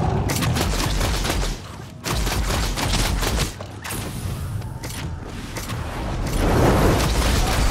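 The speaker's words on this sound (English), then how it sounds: "You should empty your entire mag into that shield." Gunfire in the online game Nosgoth comes as rapid clattering bursts broken by short pauses, loud and close with mechanical creaks and rattles between volleys.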